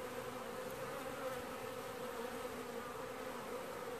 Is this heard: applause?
no